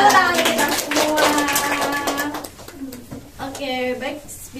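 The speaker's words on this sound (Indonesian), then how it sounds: "Tepuk tangan kita semua." A class claps hands together in quick, rhythmic bursts while voices chant along. The claps are close and fairly loud, then stop as the talking carries on.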